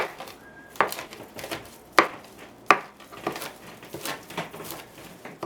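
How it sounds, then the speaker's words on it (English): Fresh dill chopped with a knife on a cutting board, giving a series of close, crisp knife strikes at irregular intervals, three louder thuds standing out among softer taps and rustling. "So I do need to chop up some of this fresh dill"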